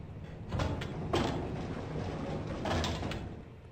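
Mechanical thumps and clunks of an elevator arriving in a video game, with a few distinct knocks over a low rumbling hum, fairly loud and close.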